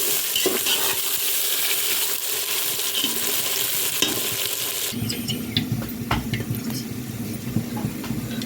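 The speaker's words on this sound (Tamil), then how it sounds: "10 பச்சை மிளகா கட் பண்ணி வச்ச வெங்காயம் போட்டுட்டு எல்லாரும் பொரிய வைக்கலாம்" Chopped onions and green chillies sizzle and crackle in hot oil for biryani, a constant bright frying hiss with a few stirring clinks, the sizzle growing denser and louder midway.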